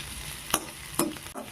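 Strips of leftover roti fry in a pan under a soft continuous sizzle, with a few brief scraping stirs against the metal.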